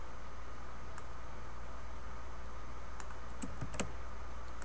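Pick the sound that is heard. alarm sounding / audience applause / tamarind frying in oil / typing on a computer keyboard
typing on a computer keyboard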